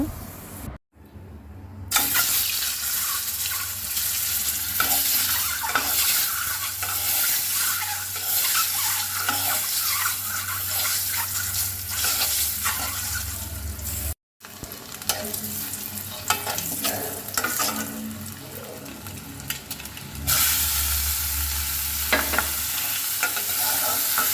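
Eggs sprinkled with turmeric sizzle steadily in hot oil, crackling and spitting close up for a long stretch, with occasional utensil scrapes and two brief cutoffs.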